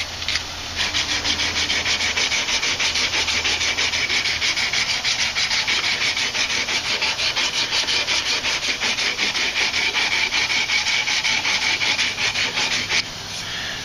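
Hand sanding of a wooden leather strop block, a steady rhythmic scratchy rubbing of quick back-and-forth strokes, loud and close, that stops near the end.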